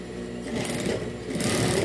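A sewing machine runs a seam on a fabric phone holder, a brief, steady, close mechanical whirr that grows slightly louder partway through.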